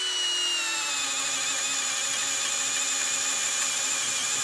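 A Metabo 12V PowerMaxx cordless drill set to speed 1 in drill mode runs steadily under load, its high whining motor tone holding loud and close with no pause for the full stretch.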